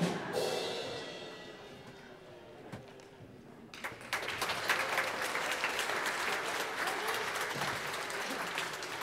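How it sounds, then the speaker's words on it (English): Church congregation clapping during a Sunday service, a steady broad patter of many hands that swells louder after a few seconds and continues without a break. "Every time we walk forward, they clap."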